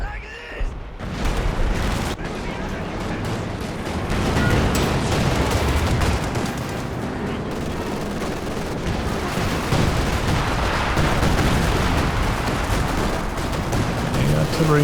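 Artillery fire in a Company of Heroes 2 4v4 match, a dense, unbroken wall of booming shell impacts and rattling gunfire, loud and continuous throughout with no pauses.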